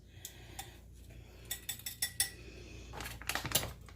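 A spoon stirring cinnamon, brown sugar and pecans in a bowl, giving quiet, irregular clinks and scrapes against the bowl that grow busier toward the end, with no speech.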